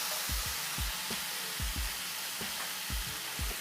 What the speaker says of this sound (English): I don't know if you can hear this loud sizzling sound here